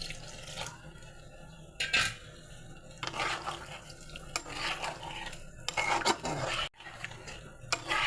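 A spoon stirs ganges and tengra fish curry in a kadai just after water goes in, giving soft wet sloshing and scraping strokes with a few sharper clinks against the pan, fairly quiet and close.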